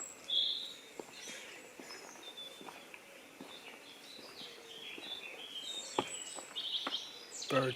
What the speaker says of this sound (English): Birds everywhere.